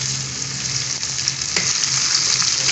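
Masala-stuffed okra (bhindi) fries in several spoonfuls of oil over a high flame, giving a loud, steady, close sizzle with occasional small pops and no voices.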